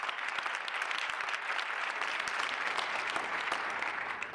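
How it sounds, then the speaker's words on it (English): A large conference audience claps in a sustained, dense round of applause at the opening plenary session of the 2014 GEAR UP Annual Conference, steady and even throughout with no talking. "Give yourselves a big round of applause for all of the lives that you're changing."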